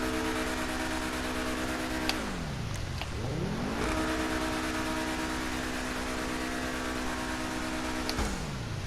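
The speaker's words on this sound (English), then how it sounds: "You can hear the turbos, hopefully." Turbocharged Pegassi Zorusso engine in GTA Online drones loud and steady, dropping in pitch through a shift or lift-off before climbing again. A sharp blow-off puff marks the lift, then the engine note sustains and dips once more near the end.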